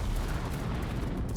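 Anti-aircraft guns firing in the naval combat game World of Warships, a dense, continuous low rumble of overlapping booms with no clear gaps, steady and moderately loud throughout.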